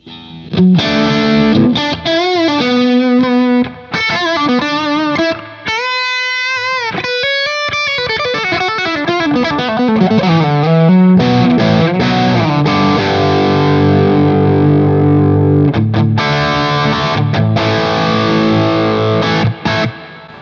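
Distorted electric guitar through a BluGuitar AMP1 on its classic channel, recorded direct, with sustained bends and slides, then thick chunky chords, loud and saturated.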